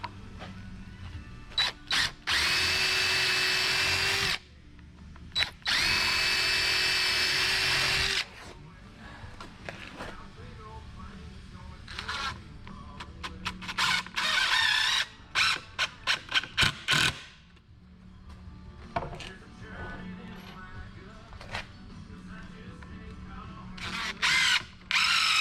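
Repeated bursts of a power drill pre-drilling into wood whirring up and stopping, some long and steady, others short quick pulses, with occasional voices and clatter between.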